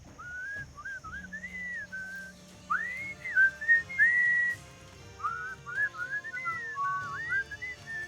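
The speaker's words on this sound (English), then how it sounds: "What is that enchanting whistling sound?" A melodic tune whistled in short rising and falling phrases over quiet background music, clear and close, in the game Sam & Max Beyond Time and Space.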